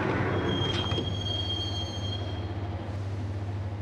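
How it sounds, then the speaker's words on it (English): A train carrying the rider to Roscoe Street Station in a video game, with a steady low rumble, a thin high whine and light clatter near the start. "the train doors had already shut behind me, and I was in for the ride"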